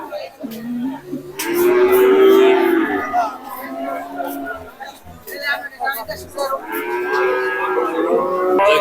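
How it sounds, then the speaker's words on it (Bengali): Cattle low and moo amid a busy crowd at a Bangladeshi cattle market before Eid al-Adha, with people talking and a steady murmur of voices all around. "বিশাল সাইজের একটা গরু দেখতেছেন"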